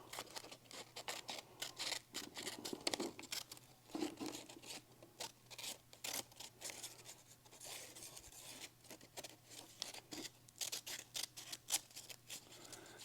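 Close right-handed scissors snip through paper for a collage in quick irregular bursts of short crisp cuts, with light rustling of the sheet between them.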